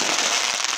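Diwali fireworks crackle densely and continuously in a short, loud, sharp burst of popping sparks with no voices.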